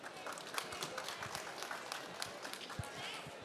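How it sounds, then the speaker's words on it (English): Faint, distant audience applause at a COP29 climate-action dialogue session: a steady patter of many hands clapping, soft and continuous throughout. "Please give her a warm round of applause."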